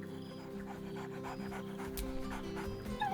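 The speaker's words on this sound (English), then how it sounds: "Scratch barks merrily in something like agreement." A dog in the fantasy role-playing game Baldur's Gate 3 pants rapidly and steadily up close, with a faint whimper and game music playing quietly behind it.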